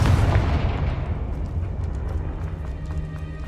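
A heavy blasting spell bursts in Hogwarts Legacy, a loud booming impact at the start that rolls into a long rumbling, debris-filled decay over a few seconds.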